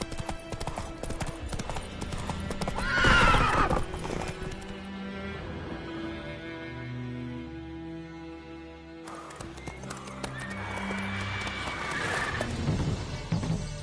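Horse hooves clip-clop at a trot for the horse Roach in The Witcher video game, rhythmic and fairly close, with a whinny and game music around them and a short quieter stretch midway.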